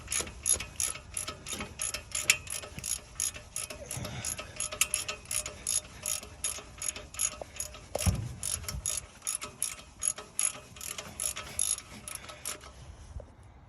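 A ratchet wrench loosens exhaust header bolts on a 1971 Road Runner, a rapid run of close, sharp clicks in uneven bursts with a few heavier clunks of metal.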